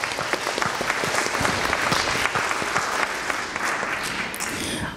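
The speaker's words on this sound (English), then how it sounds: "give yourselves a round of applause" Audience applause fills a panel event at a screening of an anti-fracking film in New York City, dense and sustained clapping at steady loudness, tapering slightly near the end.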